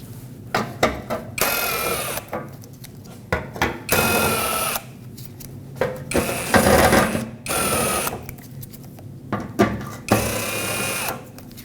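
Power tool spinning out 10mm bolts beneath the front bumper panel of a Nissan Frontier, several short whirring bursts with clicks and pauses, close and fairly loud, with no speech.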